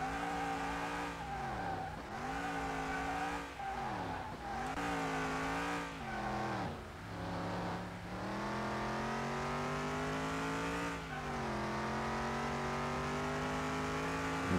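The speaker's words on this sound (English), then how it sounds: "Pull a sick skid right here." A 1971 Dodge Charger Super Bee drifting in Car Mechanic Simulator 2021: loud sustained engine drone with wavering revs and tire squeal, dipping briefly several times as the throttle lifts, close and continuous throughout.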